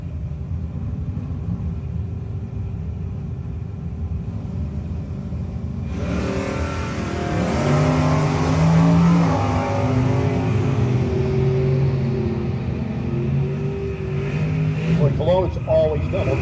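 Drag race cars at a no-box 660 shootout, heard first as a steady idling rumble, then a loud surge of revving engines as the cars launch and pull away, with an announcer talking over it.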